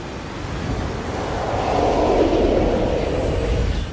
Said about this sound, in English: With all that sound of water